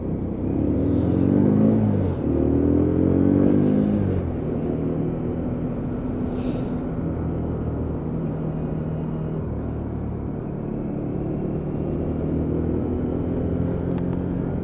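Lexmoto Venom 125cc motorcycle ridden on the road and shifted down through the gears, a close low engine rumble that surges briefly in the first few seconds and then settles to a steady hum.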